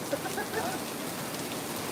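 Heavy summer rain pours down steadily, a dense, even hiss of drops drumming on surfaces close by with no pauses, a loud wash that fills the whole stretch.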